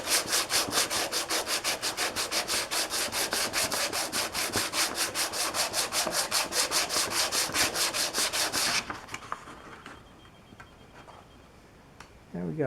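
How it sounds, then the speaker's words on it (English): A Corvette body surface is sanded by hand to smooth out inconsistencies, giving a steady, rapid back-and-forth rasping rhythm that runs close and loud for most of the clip, then stops, leaving a few light scrapes and handling noises. "And we're just going to kind of go over this surface. And sand off any inconsistencies."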